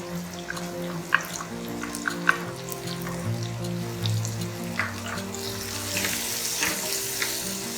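Tomato masala with ginger, turmeric, chili and coriander powders sizzles steadily in hot oil, with scraping clicks and soft stirring knocks from a spoon over the continuous frying hiss.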